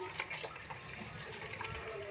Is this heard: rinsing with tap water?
yes